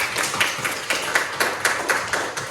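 An eighth-grade Indonesian junior high class claps for a classmate who has just answered, a short burst of rhythmic, fairly close clapping that pulses at a steady beat and stays in the same room.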